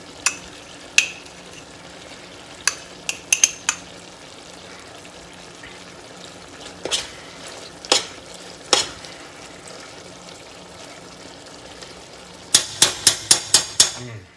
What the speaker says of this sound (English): We have the cilantro stems, the onions, and the garlic all cooking in there right now.